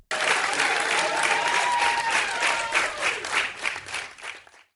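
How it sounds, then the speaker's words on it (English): Canned applause sound effect, a dense, loud burst of many clapping hands with crowd noise that holds steady, then thins and cuts off abruptly. "The deflection deserves a round of applause."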